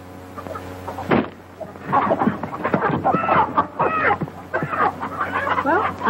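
Chickens clucking on a 1934 western farm, a steady scatter of clucks and squawks running throughout under and between lines of dialogue, with a sharp knock near the start.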